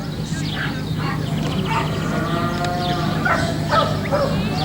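A herding dog at a cattle herding trial in Chaumont barks in short repeated yaps while working a group of heifers, moderately close, over a steady background hum and crowd noise.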